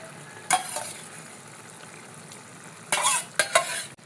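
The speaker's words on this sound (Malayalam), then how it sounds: "കൂന്തൾ മുറിച്ച് വെച്ചത് നമുക്ക് ഇതിലേക്ക് ഇട്ട് കൊടുക്കാം" Cut squid is tipped into boiling masala and stirred, giving a steady low sizzle broken by a few sharp bursts of spoon scraping and splashing, close up with no voices.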